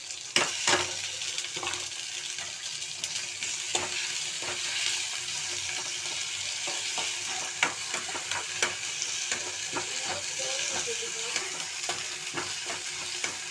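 Onion, tomato and ginger-garlic paste sautéing in a pan for a potato masala, a continuous close sizzle broken by frequent spatula stirs and scrapes against the pan.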